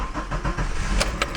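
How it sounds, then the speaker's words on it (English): A car engine starts after an oil filter change, the starter cranking and the motor catching into a loud, rough, close rumble with rhythmic pulses. "Now we're going to start the car"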